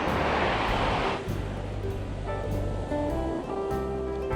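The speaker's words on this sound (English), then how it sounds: "Let's just kick back and enjoy the waves and the sound of the wind, just for a minute or two." Surf rolls in steadily at a natural, undeveloped ocean beach near Montauk on Long Island, with a louder wash at first, then wind gusts buffeting the microphone throughout, close and continuous, with no voices.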